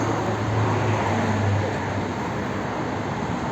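A steady low rumble of a 2010 Volvo V50 1.6 diesel idling, heard at the exhaust on a cold damp day, continuous and even throughout, fairly close with no talking.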